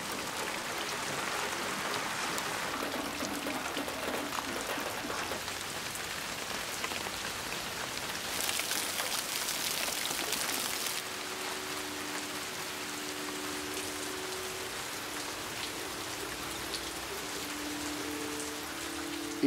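Steady rain falls and patters on surfaces, a continuous dense hiss with a brief heavier burst midway, while a faint tonal hum runs underneath in the later part.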